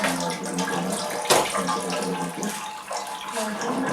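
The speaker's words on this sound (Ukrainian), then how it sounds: "Вже видно, що вже сок тече, сам по собі." Apple juice runs steadily from a homemade press loaded with small winter apples, a continuous watery trickle heard close up with faint voice-like sounds underneath.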